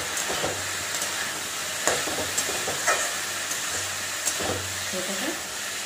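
Dal lentil mixture with turmeric fries in a pan for a traditional dalma curry, a steady close sizzle broken by periodic stirring scrapes, no voices.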